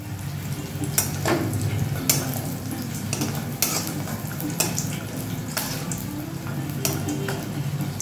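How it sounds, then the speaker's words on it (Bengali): Bori lentil dumplings frying in hot mustard oil in a kadai: a steady close sizzle with soft bubbling, broken by sharp scrapes and clinks of a spatula stirring against the pan every second or so. "এবার দিচ্ছি বড়ি, বেশ কিছু বড়ি ভেজে নেবো"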